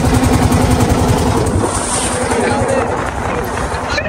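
A boat engine throbs steadily and loudly on the Meghna river near a ferry ghat, a low rhythmic chugging mixed with wind and faint voices in the background.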